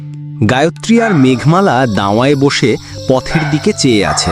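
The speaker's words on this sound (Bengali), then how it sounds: "চারপাশে ঝিঝি পোকার ডাক আর কুকুরের কান্না" Crickets chirp at night in a Bengali horror cartoon, a steady, faint insect drone under a close narrating voice that talks through the whole stretch.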